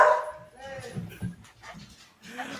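A dog barks and yips in short, uneven bursts close by, mixed with people talking.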